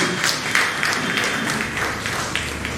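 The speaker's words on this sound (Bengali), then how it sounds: "এর জন্য একটু বিশেষ করে হাততালি" An audience claps for a school student at a Rotary Club debate event, a dense, steady patter of many hands filling the room without pause.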